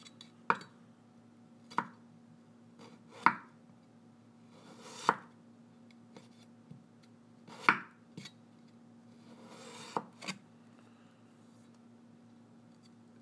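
Potatoes are sliced super thin on a board, a knife landing in separate sharp chops at irregular intervals with quiet gaps between, over a low steady background hum.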